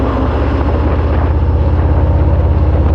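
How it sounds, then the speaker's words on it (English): A 2023 Harley-Davidson Fat Bob 114 with stock exhaust gives a steady, loud engine drone with a low, pulsing exhaust rumble, close by and continuous during a ride, with wind buffeting underneath. "even though it's a stock exhaust, the sound of it is still very cool"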